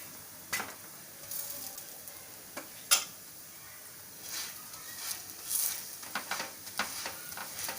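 A poha, potato and spring onion paratha roasts in a pan with a faint, soft sizzle and scattered light clicks and scrapes. The sounds are quiet and close, with no voice over them.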